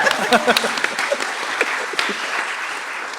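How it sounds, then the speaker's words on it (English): An audience applauds for Myths and Mirrors at a panel talk about imagining the future, a dense, steady wash of clapping that swells at the start and holds at an even level for three seconds. "clap for Myths and Mirrors"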